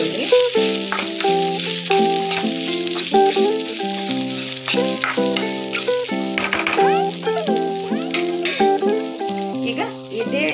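Onion frying in hot oil in a pan, with the gas switched off, for a Tulu-style basella curry: a continuous sizzle with intermittent stirring clatter, under prominent background music.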